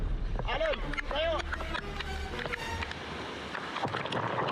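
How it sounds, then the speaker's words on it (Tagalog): Waves slap a small boat off Happy Island, Catanduanes, one after another, heard as rumbling, splashing gusts beneath loud, excited talking. "hinampas na agad kami ng sunod-sunod na alon"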